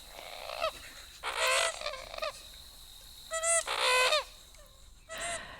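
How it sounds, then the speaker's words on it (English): American coot calling, several bursts of nasal, honking cackles and short grunting notes, some in quick clusters, fairly close over a quiet background. "Here's what an American coot sounds like."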